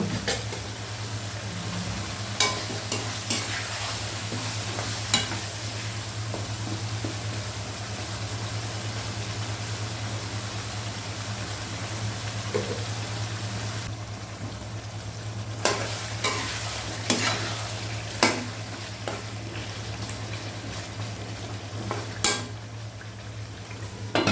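Beans, eggplant, radish and potato fry in a pan with a steady, loud sizzle. Scrapes and clacks of stirring come at irregular intervals, and a low hum runs beneath the whole stretch.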